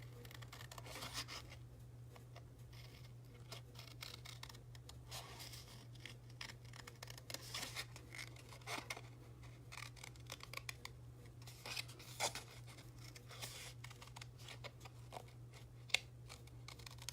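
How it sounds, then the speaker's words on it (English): Repeated crisp snipping and crinkling, like scissors cutting through paper, in a steady close-up series over a constant low hum, with no talking. "you need to use really sharp scissors and always cut in a straight line"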